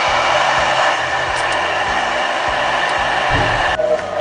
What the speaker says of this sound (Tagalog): Hand mixer or hand blender or blender.